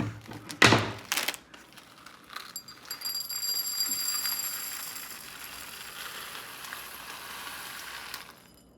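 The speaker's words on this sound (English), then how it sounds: "Try not to dump these beads everywhere." Small plastic perler beads pour from a snipped bag into a bowl, a dense rattling cascade with a loud burst near the start, then a softer, steadier trickle and settle, close and alone.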